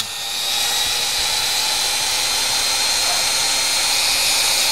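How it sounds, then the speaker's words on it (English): A Dremel rotary tool grinds a bone guitar nut, producing a close, steady high-pitched whine with a gritty edge that holds nearly constant throughout, with no talking. "I want to get about halfway down to it with this Dremel before I go back to the file."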